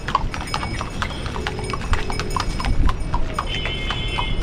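Horse hooves clip-clop steadily along a mountain trekking trail to Yamunotri in Uttarakhand, a brisk uneven rhythm of hard strikes under a busy outdoor background.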